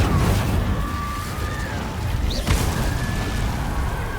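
A fire spell cast in the Hogwarts Legacy video game, a dense roaring burst with a whooshing flare near the middle, over continuous loud game rumble and effects.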